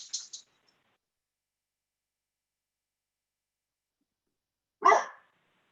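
A single loud, close dog bark rings out after a few seconds of near silence, preceded by a couple of faint high squeaks.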